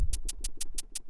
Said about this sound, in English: is like a little shaker sound